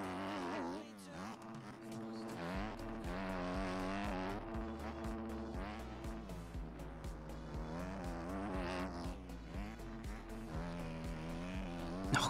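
A race car laps a track in a racing video game, its engine note droning and rising through gears with tire squeal and continuous revving, loud and close throughout, no talk.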